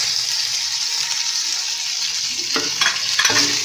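Bell pepper and carrot stir-fry in a pan with a steady, close hiss of sizzling, broken near the end by a few sharp scrapes of stirring.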